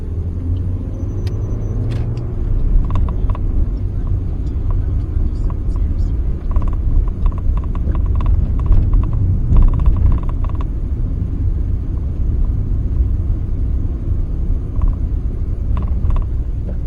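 Car pulling away on a slight incline after the handbrake is released, a low engine rumble building steadily with light mechanical clicks, while someone talks over it throughout.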